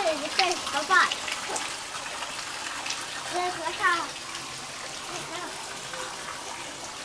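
Water on a rural farm splashing and trickling steadily, falling continuously, with a voice speaking over the constant flow.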